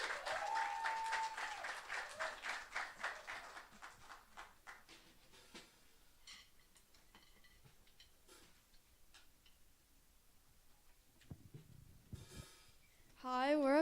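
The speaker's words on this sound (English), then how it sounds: "Let's give a big round of applause" Audience applause for a band at a live music event, strongest in the first few seconds and then thinning to scattered claps, with a brief musical tone at the very end.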